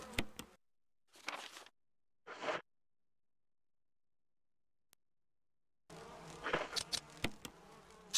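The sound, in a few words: buzzing bees in the video game Resident Evil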